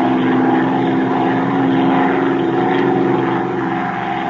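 A propeller airplane engine opens up in a radio drama, a steady loud droning roar that holds close and even throughout.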